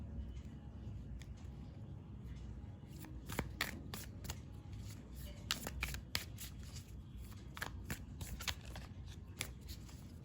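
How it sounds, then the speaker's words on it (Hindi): Tarot cards being drawn from a deck and shuffled, heard as faint, close, rapid papery flicks and riffles, with sharper snaps clustered in the second half over a low background hum. "मैं सारे कार्ड्स पहले निकाल लेती हूँ।"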